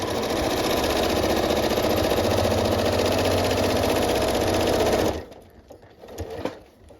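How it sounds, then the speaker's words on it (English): A sewing machine stitching down a folded fabric edge, running in a loud, steady mechanical whir for about five seconds before stopping, followed by faint handling noises. "And you're going to hold and just keep right on sewing."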